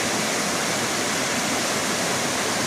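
A forest waterfall swollen with heavy water roars as a dense, steady rush of white noise, loud and close, with no voices over it.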